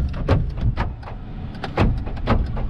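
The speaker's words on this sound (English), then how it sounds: "Door locks." Power door locks on a 2012 Ford E350 van, a series of sharp mechanical clunks and actuator thumps cycling repeatedly, close and fairly loud, with no speech.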